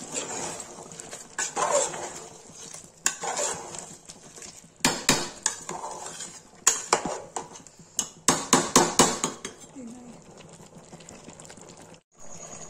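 A metal spoon stirs chicken curry in a cooking pot with repeated clanks and scrapes against the sides, coming in bursts with short pauses, close and fairly loud.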